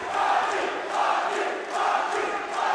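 A boxing arena crowd roars and chants in rhythmic swelling waves, a dense sustained cheer that rises and falls about once a second, with no clear talk over it.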